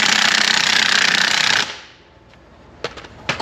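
An impact wrench rattles hard on a trailer tire in a loud, rapid continuous burst of about one and a half seconds, then stops, followed by quiet and a few sharp clanks.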